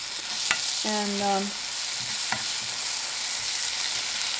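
Vegetables for lasagna sautéing in a pan, a steady close sizzle with a few scraping stirs and a brief tonal clink, and a single spoken word at the start.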